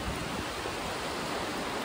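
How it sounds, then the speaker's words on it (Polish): Sea waves wash onto the shore near Tricity on a cold, windy, sunny day, making a continuous, even roar of surf with no distinct breaks and no voices. "Są fale,"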